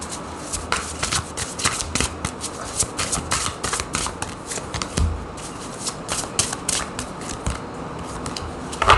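Heavenly Bodies astrology cards and Tarot in Wonderland cards are shuffled during a card reading, giving a steady stream of crisp, riffling flutters and slaps that stay close and fairly loud for the whole stretch.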